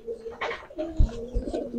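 Giribaz pigeons coo in a large loft on a farm in Charghat, Rajshahi, with several soft overlapping coos and low throaty calls close by and no talk.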